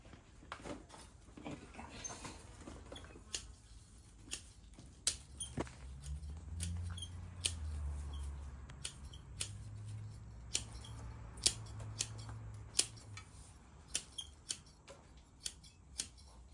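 Scissors trimming branches on a bonsai tree during air layering, sharp snips repeating at an irregular pace, close but fairly quiet, with a low murmur of voices in the middle.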